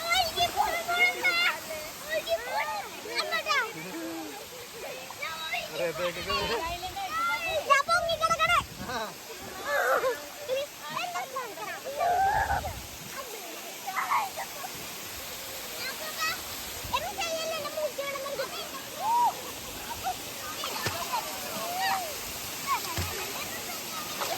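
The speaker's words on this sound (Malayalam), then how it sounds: "ഈ ഒരു വെള്ളച്ചാട്ടത്തിന് വലിയ ആഴമൊന്നും ഇല്ലാത്തതുകൊണ്ടേ നല്ല രസമാണ്" The Anayadikuthu waterfall, a shallow cascade, sends a steady rush of falling and flowing water, with people and children chattering and shouting over the constant roar.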